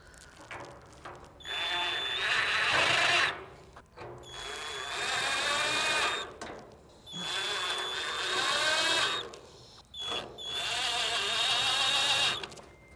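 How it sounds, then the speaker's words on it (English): A power drill drives four small screws across the top of a Camp Chef Gridiron 36 grill, making four close, loud whirring bursts of about two seconds each, with brief pauses between them. "Now we're going to put these 4 screws in across the top."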